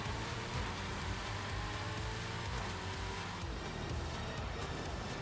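Steady rain patters in the Forza racing game, a soft continuous hiss with a low car rumble underneath, faint and without talking.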